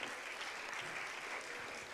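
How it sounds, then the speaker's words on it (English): Steady applause from a church congregation, a dense even patter of clapping lasting throughout at moderate volume. "Let's give him a hand clap."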